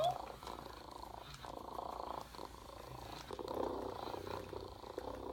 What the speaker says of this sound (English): It's hard to tell when they're both purring at once.